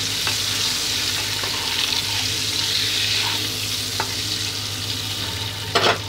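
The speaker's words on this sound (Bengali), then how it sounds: "ভালো করে লাল লাল করে ভেজে নেবো" Eggs fry with turmeric in a pan, giving a steady, close sizzle with occasional scraping stirs and a sharper clatter near the end; no one speaks.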